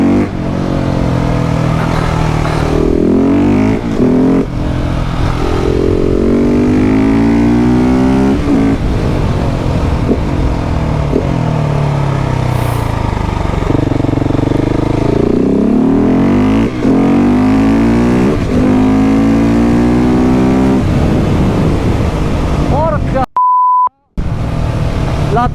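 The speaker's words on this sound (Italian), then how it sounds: "Poi c'ha un rumore che è uno scoppio, sembra che scoppia" KTM 690 SMC R supermoto engine revving hard through the gears with sharp pops and bangs, loud and close, rising and falling engine pitch sweeps, and a brief beep near the end.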